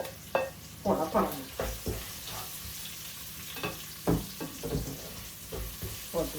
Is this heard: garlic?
yes